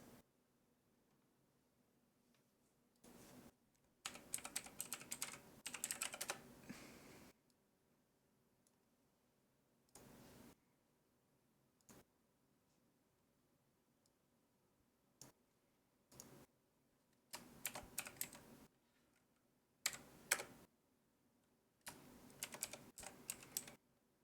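Computer keyboard typing in quick bursts of clicking separated by pauses, close and fairly quiet, with no voices.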